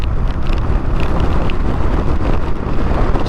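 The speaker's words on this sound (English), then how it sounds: "Jesus, this wind." Strong outdoor wind buffets the microphone in a continuous loud, low rumble with no breaks, a gusty roar heard while travelling on the road toward Dingle in Ireland.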